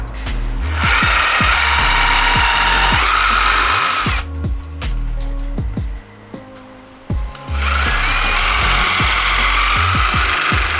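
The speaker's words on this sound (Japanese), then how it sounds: "下穴を開けてネジで留めていきます。" A power drill boring pilot holes and driving screws into a cut wooden board during a DIY build of a used car into a home, in loud close whirring bursts broken by a short pause.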